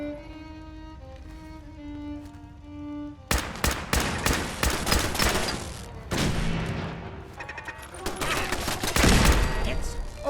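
Gunfire in the video game Fallout 4 erupts after a quiet musical stretch into rapid, sharp bursts of repeated shots and booming impacts, loud and close, continuing to the end.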